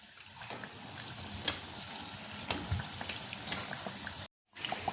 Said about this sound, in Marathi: अशा पद्धतीने मी आता बाकीचे वडेसुद्धा तळून घेणार आहे.